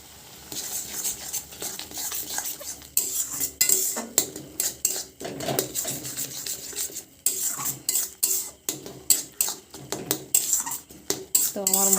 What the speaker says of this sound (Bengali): আর এই মশলাটা কষানোর সময় আমি একটু সস দিয়ে দিচ্ছি।